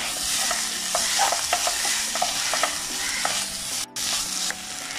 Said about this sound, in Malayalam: അതിനുശേഷം ഇത് നമ്മൾ നന്നായി ഒന്ന് എല്ലാവർക്കും മിക്സ് ആവുന്ന രീതിയിൽ ഒന്ന് ഇളക്കി കൊടുക്കാം.